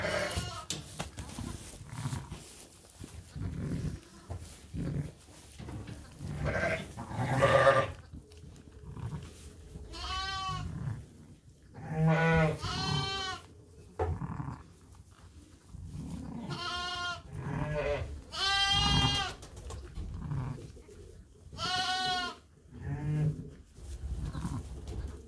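Triplet lambs bleat repeatedly at close range, their high wavering calls coming in uneven bursts over a soft shuffling farmyard background, with no talking.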